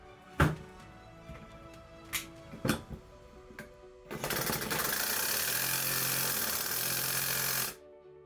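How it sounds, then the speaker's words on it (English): A battery-powered reciprocating saw cuts into a screw using a cheap budget blade. A few sharp knocks come first, then a steady, loud, close buzzing grind lasts several seconds and stops abruptly. "If you hit a screw with a Sawzall blade, it should go right through it."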